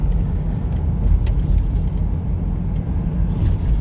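A car rumbles past on an ice-covered Mississippi road during an ice storm, a steady low road roar with faint clinking, heard from inside a vehicle with no talk.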